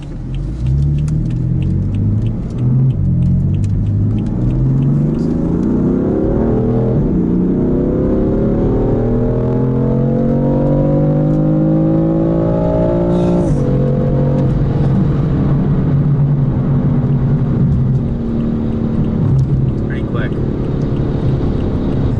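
A BMW M4's powerful engine revs up through several gear shifts in its least aggressive shift mode, pitch climbing then dropping at each change, loud and close with a deep rumble.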